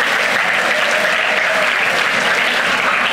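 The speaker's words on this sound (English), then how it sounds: "I want all of you to clap." Students at an induction program clap together in a loud, dense, steady round of applause that fills the room without a break, with no voices standing out above it.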